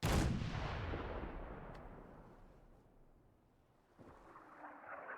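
A single heavy artillery blast in Fallout 4 booms loudly at the start and rolls off into a long fading rumble, followed by a fainter distant impact and low rumble near the end.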